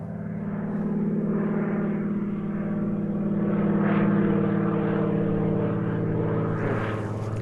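A float plane droning overhead in Alaska, its propeller engine a steady, fairly loud buzz that swells and eases slightly as it passes, with no talk over it.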